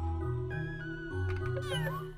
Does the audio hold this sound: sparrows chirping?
no